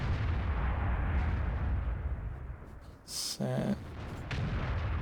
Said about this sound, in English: Okay, so 2 armour piercing rounds.